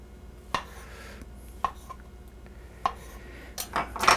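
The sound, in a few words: knife chopping mushrooms into smaller pieces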